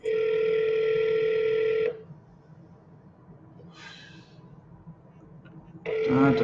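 Telephone tones sound over a line: a long steady dial tone that cuts off, a short burst of dialing, then the tone returning, close and clear.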